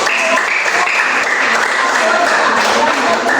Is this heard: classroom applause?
yes